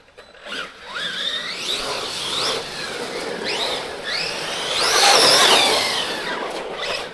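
A Redcat Valkyrie 4S RC monster truck drives about, its electric motor whining and rising in pitch through repeated bursts of acceleration, moderately near and without talk.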